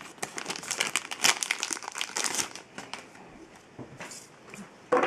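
Sticky tape and a trading card pack wrapper crinkling up close, dense crackly plastic rustling for several seconds, thinning to a few scattered crinkles before a final sharp rustle.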